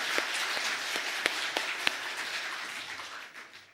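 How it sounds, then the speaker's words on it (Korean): A church congregation applauds during a Sunday service at Mapo Central Church in Korea: a steady wash of clapping from many hands with a few sharper, nearer claps standing out, fading slightly toward the end. "하나님께 영광의 박수 돌리겠습니다"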